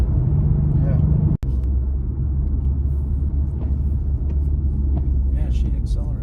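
Infiniti Q50 with a six-cylinder engine pulling hard under acceleration, a steady loud low rumble from inside the cabin, with a brief dropout early on and voices occasionally talking over it.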